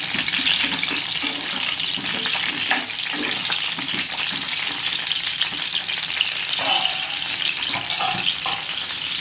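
Pieces of amla, Indian gooseberry, fry in hot oil in a pan with a steady, dense crackle and sizzle, close and continuous, with occasional light stirring and no voices.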